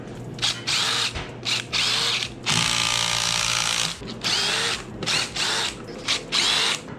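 Power tool, likely an impact wrench, loosening 5/8-inch-headed bolts on a diesel engine being pulled from an F-250, in repeated loud whirring bursts separated by short pauses, with one longer sustained run near the middle.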